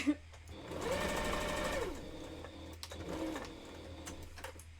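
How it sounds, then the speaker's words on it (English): A sewing machine stitches fur onto a husky foam head base in two short bursts of rapid, whirring needle chatter separated by a brief pause, close and clear. "I sew over everything once, whether it's hand sewn or machine sewn."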